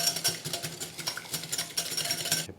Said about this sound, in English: Beat or whisk the egg until it turns pale and thick.